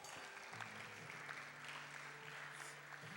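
Church congregation applauding at a youth gathering: faint, steady clapping from a crowd, heard from a distance with no voices over it.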